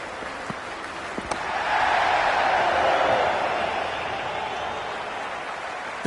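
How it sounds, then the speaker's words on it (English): Stadium crowd applauding in the cricket video game Cricket 26. The clapping and crowd noise swell to a broad, fairly loud roar in the middle, then settle back to a steady wash. "There is an almost tangible fervour throughout the crowd at the moment."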